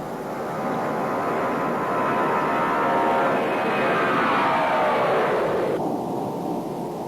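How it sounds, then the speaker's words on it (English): A Lockheed L-1011 TriStar airliner takes off on its first flight, its engines a loud, steady roar that rises in pitch, holds for several seconds, then cuts off sharply near the end. "The first TriStar for Courtline, dubbed Halcyon Days, took to the air for the very first time on January 28,"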